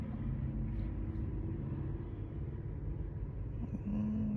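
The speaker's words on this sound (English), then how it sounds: "You can hear vehicles going back and forth." Steady low road rumble from vehicles passing back and forth, a continuous traffic drone with no break, carrying on alone without talk.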